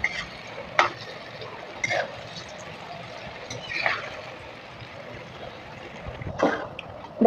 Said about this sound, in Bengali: দেখো বন্ধুরা, লাল লাল করে ভেজে নিয়েছি